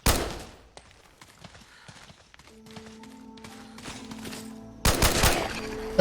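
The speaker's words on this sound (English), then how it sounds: "Don't seem to be shooting very straight, do I?" Gunfire in Fallout 4 Far Harbor: a loud opening burst, scattered sharp shots and thuds through the middle, then another loud rapid burst near the end, with faint tonal game sounds between.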